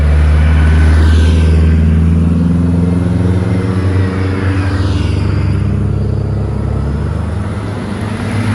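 A large MCI coach bus engine drones loudly from up close, its low rumble rising and falling through shifting tones as the bus drives along, with no speech.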